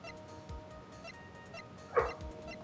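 Dog in a room with the sound of a video game, faint whimpers and small yips under steady background noise, with one sharper bark near the end.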